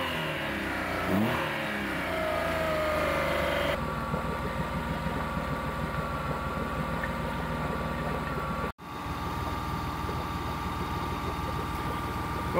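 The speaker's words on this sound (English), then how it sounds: "I think this motor's gonna run." An outboard-style boat motor runs steadily on a small barge, a loud mid-pitched engine drone with a brief rev and shifting tone early on, then settling into an even running note.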